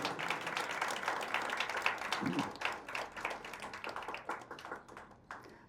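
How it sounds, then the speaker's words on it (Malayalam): A crowd at a political gathering claps together in a sustained round of applause, fairly distant and moderate, thinning out toward the end. "എല്ലാവരും ആഞ്ഞ ഒരു കൈയടി അടിക്കുക"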